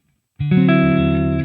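A single dry, clean electric guitar chord played through a Hotone Ampero Mini into a 4x12 cabinet with Celestion Greenback speakers rings out sharply and sustains for about a second with no reverb.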